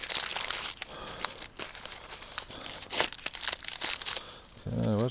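Plastic wrapper crinkling and tearing as it is peeled open by hand, a close, busy rustle of crackles and rips running throughout with a short voiced sound at the end.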